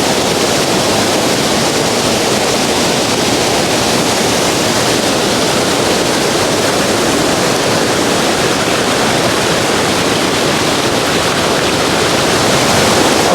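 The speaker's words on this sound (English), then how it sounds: "So the main waterfall is just behind me here." A loud waterfall pours in a creek gorge, giving an unbroken, dense roar of rushing water that stays close and overpowering for the whole stretch, with no voices.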